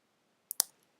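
Mouse click while selecting a name in the Canvas course site, a sharp double click, close and crisp against near silence.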